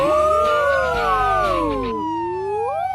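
A loud wailing cartoon police car siren rises and falls in sweeping tones, close and continuous, with no talking over it.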